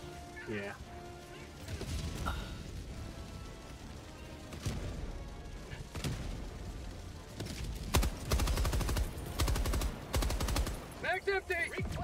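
Automaton gunfire in Helldivers II rattles in repeated bursts alongside impacts and crashes, growing louder toward the end, while a player talks over parts of the fight.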